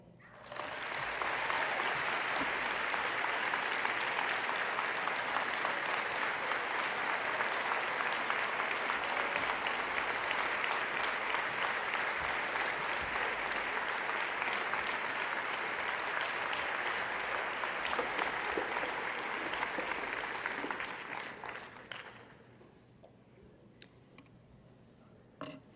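An audience at a nursing education summit's opening keynote gives sustained applause, dense and even for about twenty seconds before it tapers off quickly into near silence with a few stray claps.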